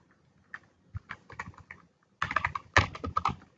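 Computer keyboard typing while a comment is entered in an Excel spreadsheet cell: scattered single keystrokes first, then a denser, louder flurry of clicks, close-miked with no speech.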